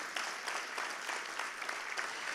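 Audience applause at a charity luncheon, a steady dense wash of many hands clapping at moderate volume, continuous throughout with no speech over it.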